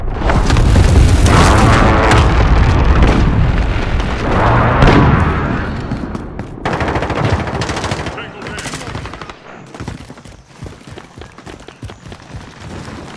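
Heavy airstrike blasts in Call of Duty: Modern Warfare on a ship deck amid constant automatic gunfire, loud rumbling booms early that give way to scattered shots and bursts, with radio voices faintly under the din.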